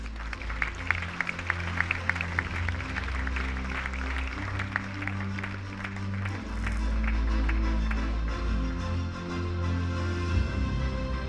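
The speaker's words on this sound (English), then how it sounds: "Can we please have a huge round of applause?" An audience at a university Republic Day celebration applauds, a sustained wash of clapping from many hands, moderately distant, with a low hum beneath and no talk over it.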